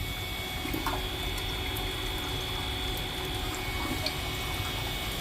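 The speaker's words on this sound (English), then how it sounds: "And we got water flow." A steady, close hum of a small water pump circulating water through a water-to-air intercooler on a 6.5 diesel race truck, continuous flowing water, faint and unchanging, with no talking.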